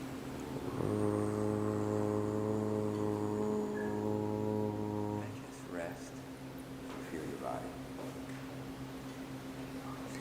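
A voice imitates a harbor foghorn with a deep, sustained hum lasting several seconds, followed by quieter speech and background murmur.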